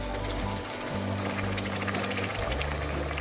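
Garlic ginger paste frying in hot oil with softened onions over medium-low flame, a dense, steady crackling sizzle filling the whole moment without pause.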